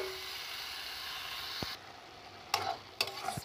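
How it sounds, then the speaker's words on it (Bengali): Spinach, eggplant and potato are sautéed with spices in a pan. A steady sizzling hiss runs under a few knocks and scrapes of stirring, and the sizzle drops partway through as the pan is worked. "কেটে রাখা পালং শাক, বেগুন, আলু সব কিছু দিয়ে মশলার সাথে খুব ভালো করে আমি কষিয়ে নেব"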